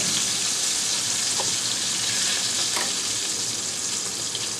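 Onion fries in oil in a pan, a loud continuous sizzle with occasional stirring scrapes, close and steady throughout.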